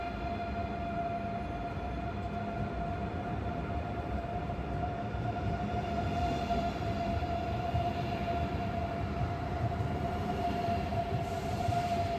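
Inside a Renfe AVE high-speed train pulling into Zaragoza Delicias station, a steady low rumble of running gear carries a sustained tonal whine, moderately loud and unbroken, with no voices.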